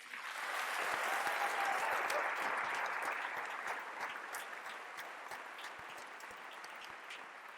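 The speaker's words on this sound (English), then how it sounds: "Please join me in another round of applause for Kip and Ken." An audience at a university presidential inauguration applauds a student a cappella group with dense, sustained clapping that swells early and then slowly thins.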